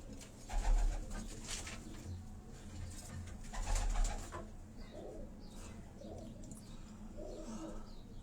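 Pigeons coo softly on a rooftop in Karachi, low throaty calls rising twice in louder swells, with faint chirps and quiet background noise around them.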